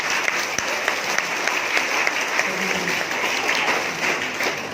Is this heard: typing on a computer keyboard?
no